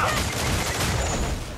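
Ship cannons fire in a naval battle in Assassin's Creed IV Black Flag, a dense, roaring barrage of overlapping booms and blasts that fills the whole moment loudly and continuously.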